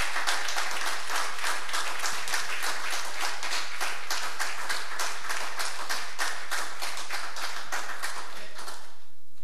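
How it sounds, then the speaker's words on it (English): A church congregation claps in unison at a revival service, a loud, steady run of rhythmic hand claps that keeps going for about nine seconds with a low hum underneath. "Give the Lord a great big hand clap."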